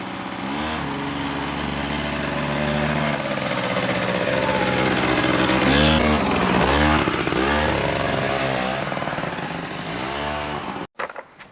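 A 1990 Honda motorbike engine runs close and loud, its buzzy note rising and falling through several revs over about ten seconds before cutting off abruptly, followed by a few faint knocks.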